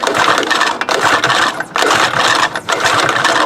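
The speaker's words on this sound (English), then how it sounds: "If I put the switch off, so there's no way it will start, in essence the ignition system is dead, I can pull the rope" The starter rope of a Harbor Freight Storm Cat 2-cycle generator is pulled with the ignition switched off, giving three quick ratcheting, whirring pulls close by, with brief pauses between them.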